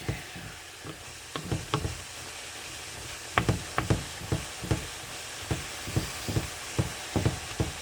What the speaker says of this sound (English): So the pork is starting to render down a little bit of fat